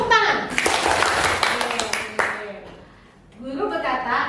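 Children clap their hands together in a burst of quick claps during a classroom game, mixed with children's voices, then the clapping dies down before talk and voices return.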